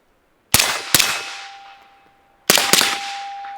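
A KelTec P50 pistol fires four sharp, loud shots at an outdoor range, grouped as a quick pair, a pause, then another pair, each crack trailing off into a decaying ring.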